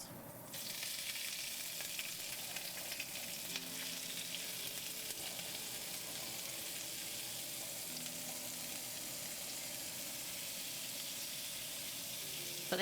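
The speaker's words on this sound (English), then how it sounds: "So just drop one leek in. If it's sizzling, we can drop the rest." Leeks dropped into a hot pan on medium-high heat sizzle steadily, a continuous bright frying hiss that holds even and close throughout, with no talking.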